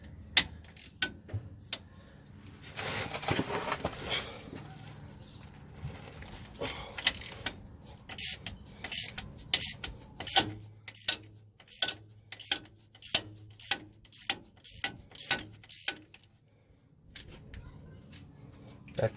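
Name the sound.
ratchet with 14mm deep socket loosening Toyota differential vent valve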